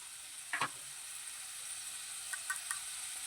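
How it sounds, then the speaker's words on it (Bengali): Potatoes fry in a pan with salt and turmeric under a faint, steady sizzle, with a couple of brief spoon scrapes from stirring. "নুন আর হলুদটা আলুর সঙ্গে খুব ভালোভাবে নেড়ে চেড়ে ভেজে নেব"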